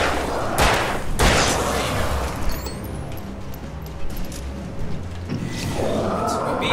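Gunfire in the Alan Wake video game, several loud shots and booms early, then a low rumble with scattered impacts, with someone talking over it.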